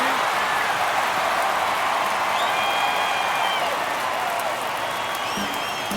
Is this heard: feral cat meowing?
no